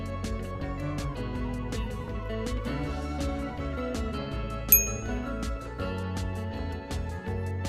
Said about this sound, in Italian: attivare la campanellina delle notifiche così ogni volta che metterò un nuovo video riceverete una piccola notifica